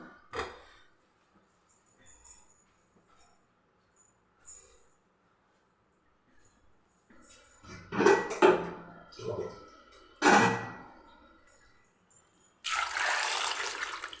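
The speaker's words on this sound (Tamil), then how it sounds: "நல்லா தண்ணி ஊற்றியாச்சு" Water splashes and pours into a metal pot in a few short bursts, with clanks of cookware and quiet talking in between.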